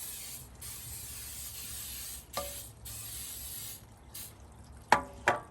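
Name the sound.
coconut oil cooking spray sprayed into a spring pan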